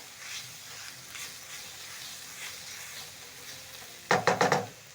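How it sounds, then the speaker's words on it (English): Carrots tossed with seasoning in a pan for stir-fried rice give a soft, steady frying hiss, then a burst of four quick, loud stirring scrapes near the end. "Toss the seasoning together with the carrots."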